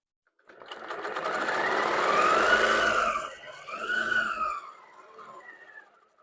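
A sewing machine runs in two bursts while stitching figure eights, its motor whirring and rising and falling in pitch, close and clear, a long run followed by a shorter one, then a brief tail.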